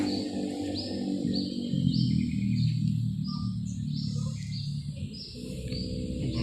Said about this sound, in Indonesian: Bunyi burung-burung.